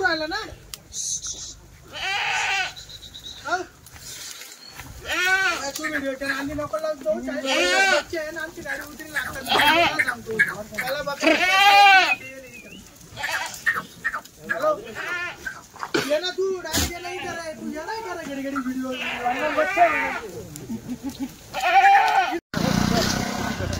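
Kathiawari goats bleating again and again, several calls overlapping at close range, with people talking throughout.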